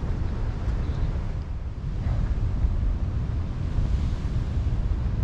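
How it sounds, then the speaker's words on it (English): Ocean waves surge up a rocky shore on Terceira Island, a continuous low rumbling wash with wind buffeting the microphone and no voices. "You can see the waves going up here."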